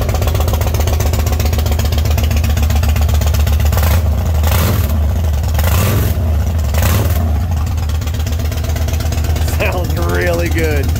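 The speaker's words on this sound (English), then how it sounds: "it sounds like a big motor for sure. It's got that subtle rumble." A 2015 Yamaha V Star Raider 1900 chopper motorcycle rumbles at a loud, close idle with a few throttle blips partway through, while someone talks over it.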